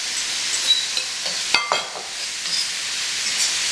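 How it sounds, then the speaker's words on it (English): Tofu sizzling in a hot skillet for scrambled tofu, a constant bright hiss of frying with a few sharp scraping stirs and a louder clatter midway. "now I'm going to take the tofu"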